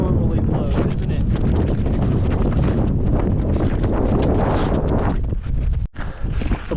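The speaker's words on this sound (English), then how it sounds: "the wind has just really picked up. It is brutal." Strong, gusting wind buffets the microphone on the snowy summit of Mount Glory while snowshoeing, a loud continuous roar that briefly drops out near the end.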